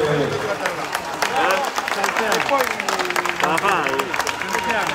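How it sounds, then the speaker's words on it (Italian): A large crowd gathered in a town square at a political rally in Fondi claps and cheers steadily, with a voice speaking over the near, continuous applause throughout. "fatevelo voi l'applauso"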